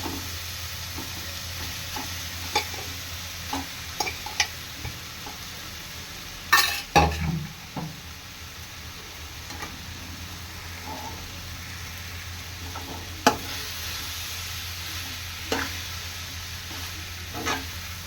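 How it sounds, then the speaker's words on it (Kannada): Cooked rice being stirred into fried masala in a pan for mango chitranna, a low continuous sizzle with scattered spoon scrapes and one louder clatter of metal, close by with no talking. "ಒಲೆ ಮೇಲೆ ಇಟ್ಕೊಂಡು ಚೆನ್ನಾಗಿ ಮಿಕ್ಸ್ ಕೊಟ್ಕೊಳ್ಳೋಣ"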